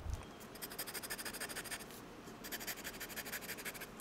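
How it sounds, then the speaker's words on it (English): A grabby Twisby fountain pen nib scratches across paper, a faint, close, continuous rasping friction with rhythmic strokes and a brief pause midway, no talking. "the feel of the nib, because it does have a grabby feel"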